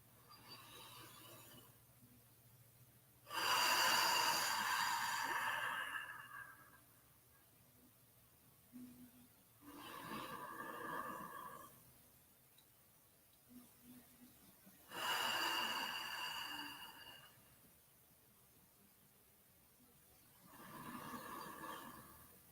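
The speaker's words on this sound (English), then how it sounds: "So 3 breaths, inhaling and exhaling through the nose now." Slow, deliberate breaths in and out through the nose during a guided peace meditation: four soft, close airy rushes separated by quiet pauses, with no talking.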